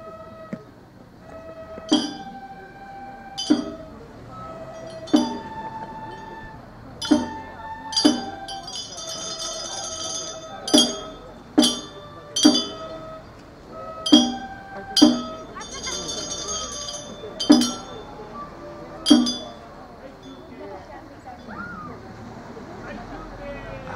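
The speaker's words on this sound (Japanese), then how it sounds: "お囃子の音聞こえてきました" Ohayashi festival music drifts through an autumn shrine festival eve in Japan, with sharp metallic bell and cymbal strikes sounding in a loose, repeating rhythm over a murmuring crowd and talk.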